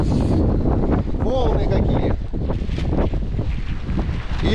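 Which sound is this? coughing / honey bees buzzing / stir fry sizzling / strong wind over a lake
strong wind over a lake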